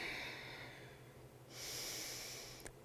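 A person breathes audibly while holding a gentle wrist stretch in a yoga session, a faint steady inhale giving way to a louder, airy exhale with a short catch near the end, close and quiet with no talking.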